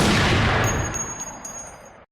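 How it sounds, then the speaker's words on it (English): A gunshot sound effect dropped into a hip-hop discussion: a single loud, booming blast at the start that decays into a long fading echo over about two seconds, with no talking over it. "Hey, big gunshot for that."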